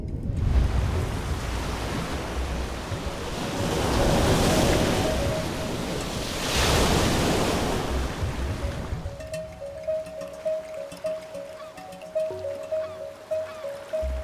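Waves wash steadily on the Red Sea in long surging swells, with wind noise over the surf, and later the water grows quieter and softer.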